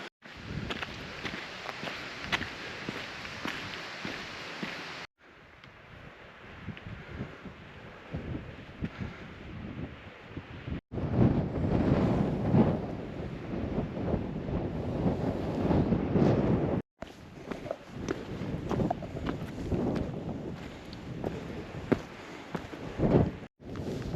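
Strong gusting wind roars across the microphone on an exposed rail trail at sunset, a loud continuous rush that drops briefly and surges again in several buffeting bursts.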